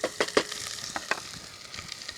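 Onions dropped into hot oil in a pot on the stove give a soft, close sizzle with a few sharp crackles and stirring taps at the start, settling into a quieter fry.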